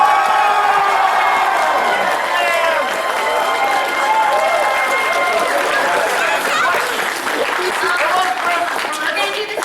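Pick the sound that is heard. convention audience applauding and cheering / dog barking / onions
convention audience applauding and cheering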